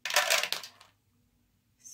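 Dice tumble and clatter across a hard surface in a quick burst of rattling clicks that dies away within a second during a tabletop board game, followed by near silence and a faint noise at the end.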